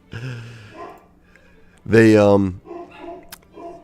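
A Rhodesian Ridgeback with a deep bark gives a few loud, close barks, one long strong bark standing out in the middle, with quieter yips around it.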